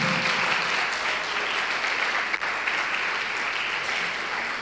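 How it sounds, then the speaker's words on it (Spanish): Congregation applause during a Spanish-language church service, a steady loud roar of many people clapping together, continuous and even throughout with a faint low hum beneath. "Dale un aplauso al Señor, aleluya, en el nombre de Jesús."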